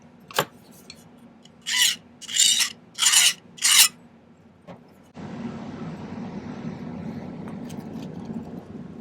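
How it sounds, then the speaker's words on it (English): Hand filing on small silver ring parts at a jeweller's bench: four distinct rasping strokes, close and crisp, after an initial tap, followed by a low steady background hum. "I need to do a little bit of filing on these ones too."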